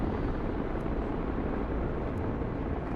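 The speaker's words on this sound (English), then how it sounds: "Enemy helicopters coming that way." Enemy helicopters in the video game Broken Arrow produce a loud, steady, dense rotor and engine roar that fills the whole clip without pause.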